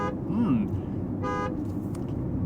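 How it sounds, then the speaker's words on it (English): Horn of a Porsche 911 Dakar honking twice, two short bright toots separated by about a second, clear over the low hum of the car's cabin while someone talks. "I would use the horn."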